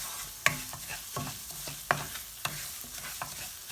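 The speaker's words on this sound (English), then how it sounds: "Now that the ghee is hot, I'm going to add in 1 cup of semolina to it." Semolina roasting in hot ghee over a medium-low flame, with a gentle continuous sizzle and a handful of crisp spatula scrapes and taps as it is stirred.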